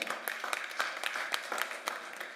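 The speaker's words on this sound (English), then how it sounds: "Give him a round of applause, please" Audience applause for a panelist at a food systems and climate conference, a moderate spread of clapping with scattered sharper claps.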